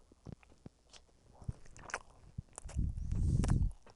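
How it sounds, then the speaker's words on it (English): Close-up chewing of thick bread with peanut butter: scattered soft bites and clicks, then a louder burst of wet, squishy mastication toward the end, quiet overall. "I'm eating bread with peanut butter"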